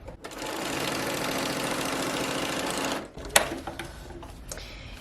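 Sewing machine stitching fabric leaves for a garland whirs steadily for about three seconds, close and even, then stops with a sharp click and faint handling noises.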